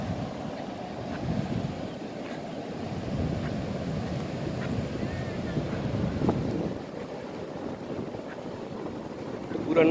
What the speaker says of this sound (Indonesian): suara deburan ombak